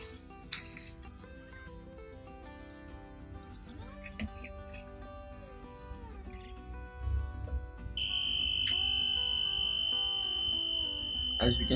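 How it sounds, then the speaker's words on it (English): A smart dustbin's buzzer sounds its full-bin alarm, a loud continuous high-pitched tone that starts about two-thirds of the way in and holds steady to the end, after quieter mechanical rattling and background noise. "the system releases an alarm using a buzzer"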